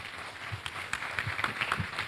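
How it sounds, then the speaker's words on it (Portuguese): Church congregation applauding during a Sunday service, a scattered, moderately quiet patter of claps from many hands that goes on steadily without talk. "Vamos aplaudir, igreja?"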